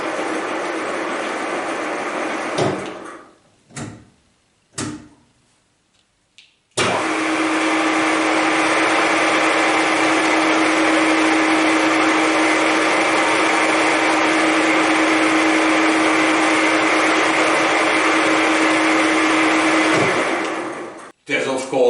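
A Deckel FP1 milling machine runs with its down feed engaged, a steady loud mechanical whir with a faint tone, preceded by a few short bursts as it starts and cutting off near the end.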